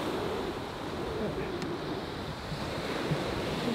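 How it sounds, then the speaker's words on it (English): Ocean waves at Huntington Dog Beach wash in a soft, continuous surf roar mixed with wind noise on the microphone, fairly faint and even throughout. "So this is Bella's first time by her coming by herself to the beach"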